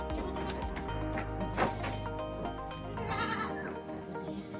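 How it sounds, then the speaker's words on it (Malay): Newborn twin goat kids, both female, bleating repeatedly in a farm pen, with loud, close, overlapping cries over steady background noise. "Anak kambing baru lahir malam tadi."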